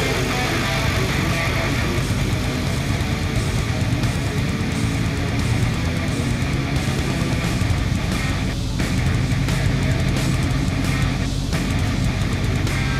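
A car engine idles just after being started, giving a loud, steady, continuous rumble close by for the whole stretch with no pauses.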